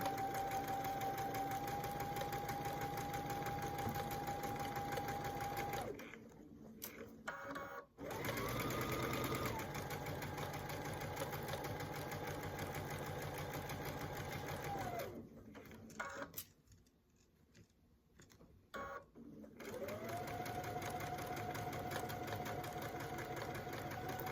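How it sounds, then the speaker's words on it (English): A sewing machine stitches a quarter-inch seam, humming steadily for several seconds, pausing briefly, then running again through two more long stretches, close and clear. "I'm going to sew a 1/4 inch seam allowance all the way down this side"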